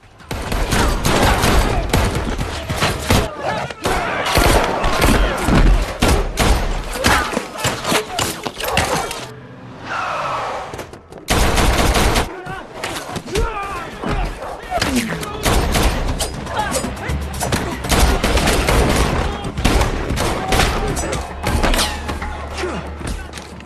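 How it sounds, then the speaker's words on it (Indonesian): Dense bursts of gunfire, thuds and shattering crash through a brutal John Wick 3 film shootout, loud and nearly continuous with a brief lull midway, with voices mixed in. "John dan Sofia akhirnya berhasil kabur setelah melawan anak buah berada dalam baku tembak sengit"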